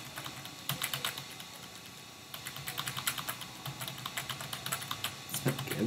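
Rapid clicking of a loud computer keyboard being typed on at close range, in irregular bursts with a short pause near the middle, over a faint steady background hum.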